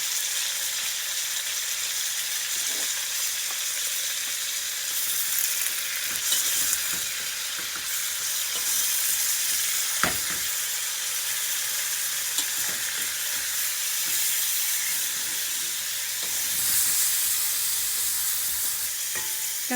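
Steady loud sizzling of sofrito frying in a pot, with occasional scrapes and clinks of stirring, and no voices.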